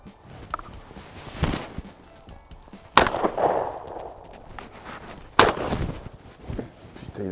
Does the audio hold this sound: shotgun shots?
yes